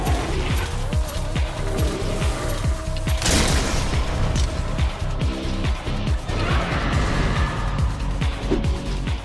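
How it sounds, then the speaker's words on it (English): Heavy bowgun fire with level 3 spread ammo in Monster Hunter World: loud, rapid volleys of booming shots and crashing impacts pound on continuously without pause. "Spread ammo level 3. This is really strong and the 7 damage numbers are enough to kill the monster."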